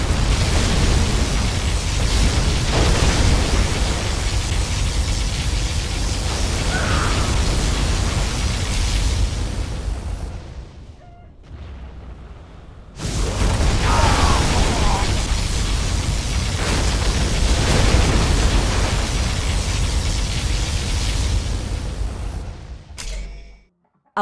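In the real-time strategy game Command & Conquer Generals Zero Hour, a particle cannon fires amid explosions: long, loud roaring blasts of broadband rumble, broken by a brief lull partway through before the din resumes and cuts off sharply at the end.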